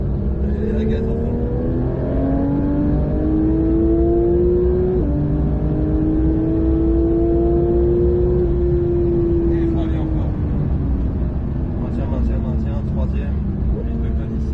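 A Porsche 992 GT3 accelerates at full throttle around the Magny-Cours club circuit, its engine note climbing loudly through the revs with a brief dip at a gear change, heard from inside the car under a driver's talk.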